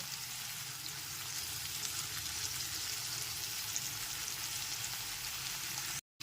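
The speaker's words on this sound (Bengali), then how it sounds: "গ্যাসের ফ্লেমটা মিডিয়ামে রেখে পেঁয়াজগুলোকে হালকা বাদামি করে ভেজে নেব।" Two medium-sized chopped onions frying in a pan over a medium gas flame, a steady, even sizzle throughout with no talk, cutting off abruptly at the end.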